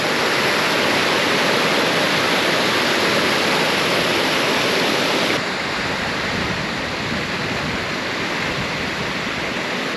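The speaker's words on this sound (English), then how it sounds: "Here's the outlet stream from the lake. This is what's filling up the beaver dam down below." Water rushes steadily in a lake's outlet stream above a beaver dam near Ushuaia, a loud, close, continuous broadband wash that drops slightly in level halfway through.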